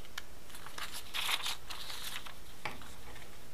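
Scissors cutting paper while making a pop-up card, a series of close, crisp snips and crinkling rustles at an uneven pace, heard alone.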